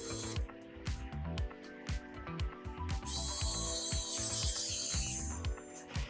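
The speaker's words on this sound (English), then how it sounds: "Now just screw that GPU on the support bracket." A screwdriver drives a screw holding a GPU to a support bracket, producing a rapid run of ratcheting clicks in short bursts, close and clear. A brief hissy rustle follows midway.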